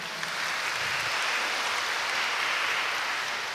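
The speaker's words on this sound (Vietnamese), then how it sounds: "Cho các sơ một tràng pháo tay thật lớn ạ." A church congregation gives a long round of applause for the sisters during a Good Shepherd Sunday parish Mass, a steady, dense wash of clapping that holds evenly from start to finish with no talking.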